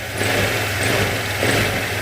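A freshly rebuilt motorcycle engine being broken in runs steadily at close range, a continuous mid-pitched rumble with no other sounds.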